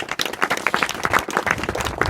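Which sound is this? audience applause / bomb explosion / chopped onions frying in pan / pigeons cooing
audience applause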